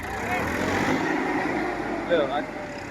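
A Massey Ferguson 1035 tractor engine labours to pull another tractor stuck in sticky mud in a grass-laden field, a steady broad rumble running throughout beneath a voice.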